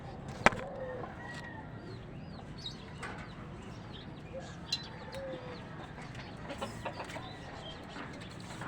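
Pet chickens kept outdoors cluck softly and intermittently at a distance, with scattered short calls over a steady background hum.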